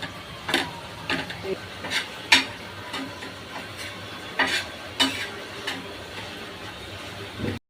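Gram flour dry-roasting in a pan, stirred with a spatula that scrapes and taps in irregular strokes over a soft, steady sizzle, close and alone.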